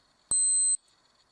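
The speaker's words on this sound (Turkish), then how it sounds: "Süre dolduğu zaman bu şekilde 10 saniye alarm çalıyor" A Casio BGS-100 watch sounds its timer alarm, one short, bright, clear electronic beep lasting about half a second, close and alone in silence.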